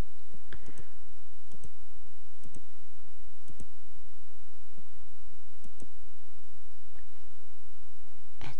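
A computer mouse clicks while someone works in photo book software, with sharp single clicks scattered irregularly over a quiet room background and no talking.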